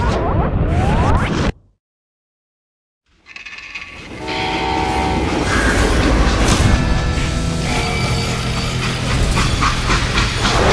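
A train runs in the Western shooter game Call of Juarez: Gunslinger, with a loud steady rumble and clatter under a horn or whistle-like tone that starts after a brief silence and keeps going.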